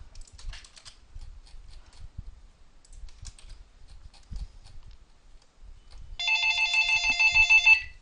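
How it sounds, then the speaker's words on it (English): A telephone rings with a bright, trilling electronic bell near the end, loud and clear after a stretch of quiet soft keyboard typing in a room. "God damn phones."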